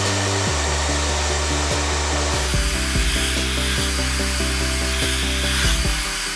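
A hair blow dryer whirs loudly and steadily while hair is dried over a round brush for curtain bangs, its tone shifting slightly as the airflow changes, with a faint regular ticking running through the hum.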